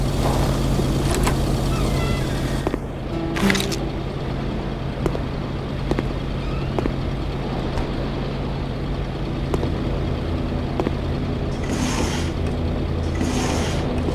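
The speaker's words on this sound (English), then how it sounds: "My truck is really loud. Hear that sucker?" A loud truck engine running steadily, a constant low rumbling drone close by with occasional clunks and brief higher bursts, no talk.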